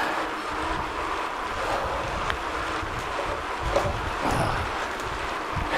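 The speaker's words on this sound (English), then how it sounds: "So if you hear something that kind of sounds like a soft jet engine, that's what it is." A home office fan blows sideways in a warm room, making a steady, soft airy whoosh like a distant jet engine. It stays constant throughout with no talking.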